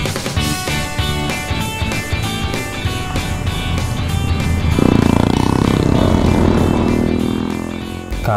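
Motorcycles ride past on a busy road near Ciwidey in southern Bandung, engines droning steadily with music playing over them and a louder pass swelling toward the end.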